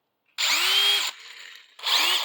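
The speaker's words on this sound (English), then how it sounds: "the Mac Tools 20 volt brushless drill, the MCD 791" A Mac Tools 20 volt brushless MCD 791 drill spins up twice, loud and close, with a high whining motor buzz. A quieter stretch between the runs sounds like it idles or slows before revving again. No voices are heard.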